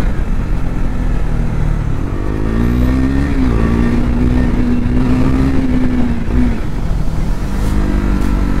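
A KTM RC 390 motorcycle accelerating hard at full power on a road, its engine note climbing and holding high, loud and close, then easing off near the end.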